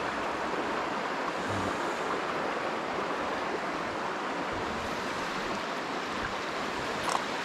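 A strong river current roars steadily and loudly, a dense unbroken wash of flowing water close by, with no voices.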